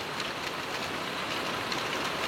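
Steady rain falls over a chili pepper garden, a dense, even hiss of drops on surfaces that stays constant and fairly close throughout, with no voices.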